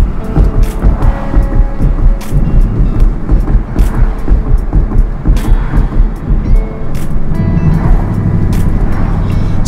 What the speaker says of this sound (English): a Ford Mustang GT. This sucker is fast. It's a hell of a ride.